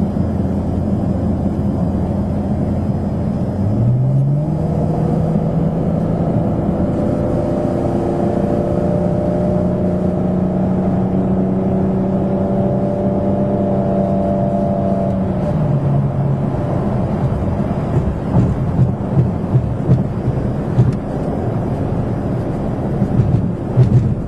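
A Dodge Charger with a Magnaflow dual exhaust accelerates through freeway traffic, its engine note rising and holding in a steady loud drone before easing off, heard from inside the car with no talking.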